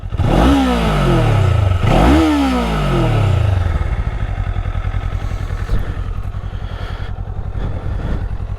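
A Kawasaki Eliminator motorcycle engine revs up twice in quick, loud bursts, then settles into a rough, steady idle with a clattering throb, recorded close in town.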